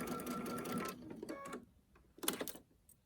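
A sewing machine runs bursts of stitching through canvas fabric, sewing reinforcing lines on a cornhole bag. A longer steady run gives way to short stop-start bursts, close and fairly quiet.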